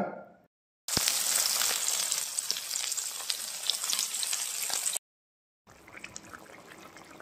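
Small fish fry in hot oil in a home kitchen pan, a loud dense sizzle bursting in at once and crackling steadily for about four seconds, then cutting out before a softer sizzle resumes.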